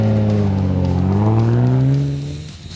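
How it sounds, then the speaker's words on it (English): A short-wheelbase Nissan 4WD revs hard on sandhills, its engine note climbing steadily and loudly before easing off in the last moment as the throttle drops. "I'm here to find out what this little Shorty Nissan will do in the sand."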